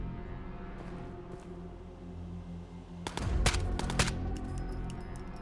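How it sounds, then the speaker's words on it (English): Two gunshots in Ghosts of Tabor ring out together around the midpoint, loud cracks over a steady droning background hum, followed by quieter metallic clicks. "Two shots."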